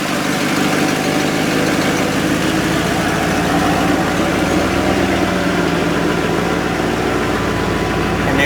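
A 1995 Ford F-150 4x4 idles nearby with a steady, loud, rumbling engine drone and exhaust note that holds without change throughout, and no talk over it.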